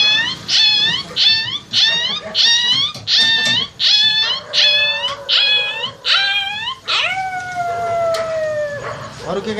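A girl imitates a puppy whining for food, producing around nine repeated high, wavering whines in a steady rhythm, ending with a longer drawn-out howl-like cry, close and clear.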